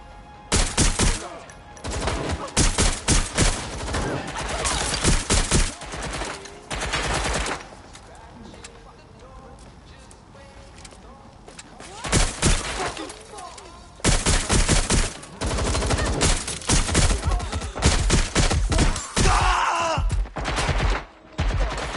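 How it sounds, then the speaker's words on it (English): Bursts of gunfire rattle in the video game Watch Dogs: Legion, loud rapid volleys coming in several separated clusters with brief pauses, some grunts mixed in. "Wait, was that a gunshot?"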